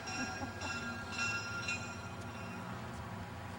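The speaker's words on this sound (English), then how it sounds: "I showed it all for Amanda so she can see how the railroads get switched" Railroad cars roll through a junction of track switches, a steady loud rumble of wheels on rails with faint clanks and squeals above it, continuous throughout.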